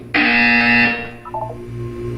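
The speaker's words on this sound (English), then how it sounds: "When you hear the buzzer, look up at the ceiling." A loud, harsh electronic buzzer in the video game Portal 2 sounds once for under a second, then fades into quieter tones with no speech.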